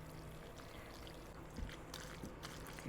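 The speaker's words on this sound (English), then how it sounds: "Now we're going to pour it in our greased casserole dish" Al dente baked spaghetti slides into a greased casserole dish in a few soft, wet, sloppy plops and scrapes over a quiet background hiss.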